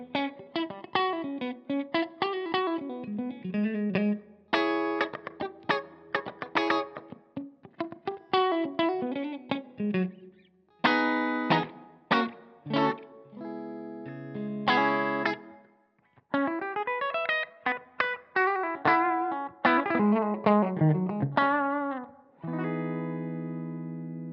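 Electric guitar played through effects, with distorted, chorus-tinged phrases and strummed chords separated by short pauses, ending on a sustained ringing chord.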